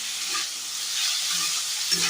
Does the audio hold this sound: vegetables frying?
yes